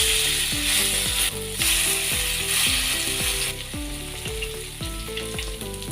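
An eggplant patty (tortang talong) sizzles loudly in hot cooking oil while a utensil clatters and scrapes against the pan as it is flipped, with steady close frying under repeated metallic taps.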